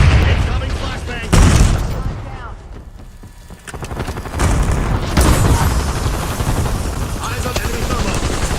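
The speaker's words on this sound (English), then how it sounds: "Incoming flashbang." A flashbang detonates in a tactical shooter video game, with loud booming bursts standing out among rapid gunfire, a voice briefly audible beneath the clamor.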